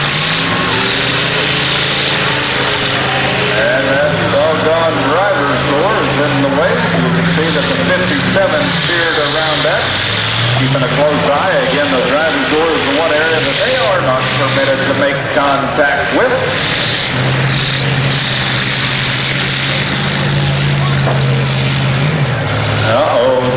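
Demolition derby car engines run loud and continuous at a county fair derby, rising and falling in pitch as cars rev, idle and one stalls, with crowd noise and an announcer talking over them throughout.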